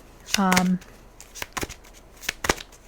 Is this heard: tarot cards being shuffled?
yes